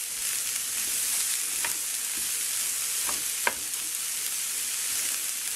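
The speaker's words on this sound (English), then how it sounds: "we're just kind of frying these a little bit." Onions, chilies and garlic fry on high heat in a pan, making a steady loud sizzle with a few soft stirring scrapes and one brief clink near the end.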